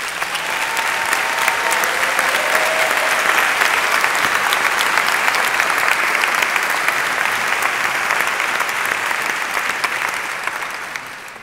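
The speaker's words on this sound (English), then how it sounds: "Let's give her a round of applause." Sustained audience applause fills a hall during a mayor's State of the City address in Long Beach, California, steady and dense clapping for about eleven seconds before tapering slightly at the end.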